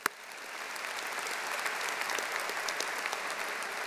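Commencement audience at a Georgia Tech master's ceremony breaks into sustained applause, a dense wash of many hands clapping steadily, fairly distant in a large hall, with no voices over it.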